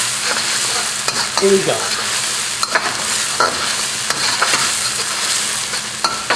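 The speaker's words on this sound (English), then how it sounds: "So I'm heating up my aromatics right now." Aromatics and sambal sizzle loudly as they are stir-fried in a wok, with a steady frying hiss and scraping stirs; a voice speaks briefly over it.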